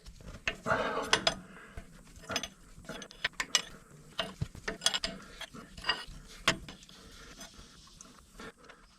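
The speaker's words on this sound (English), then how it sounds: "I was able to screw that one on a fair amount." Hand-tightening a DIN hydraulic fitting during a repair, a run of small metallic clicks, taps and scraping ticks, irregular and close, fairly quiet with no talk.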